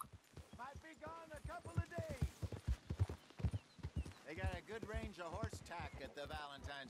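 Horse hooves clip-clopping at a riding pace in Red Dead Redemption 2, a steady rhythmic beat under continuous speech from voices.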